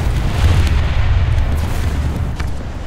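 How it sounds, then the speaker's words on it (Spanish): Rockets fired from a Type 16 (P) vehicle in War Thunder, heard as a dense, continuous low rumble of booms and blasts that stays loud and steady throughout, with no distinct separate hits. "Vamos a echar una pasada por aquí con los cohetes."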